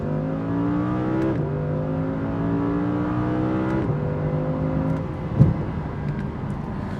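An Audi R8 RWS engine drones steadily while driving, its pitch stepping up through gear changes, with a brief thump near the end.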